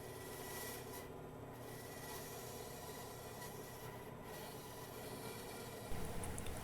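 An air sander works on wooden cockpit grab rails in freezing temperatures, making a steady, close, continuous rasping hiss with no voices, shifting slightly in tone just before the end.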